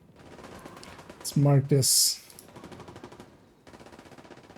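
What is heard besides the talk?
gunfire in the background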